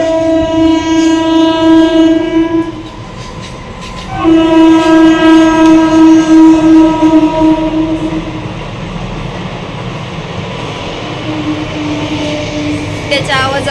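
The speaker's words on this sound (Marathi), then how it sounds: "तर ट्रेन आलेली आहे, त्याचा आवाज येतोय" A train passes close by with a loud, sustained horn of steady harmonic tones, sounding in two long blasts, then fades into rumbling rail noise as it moves off.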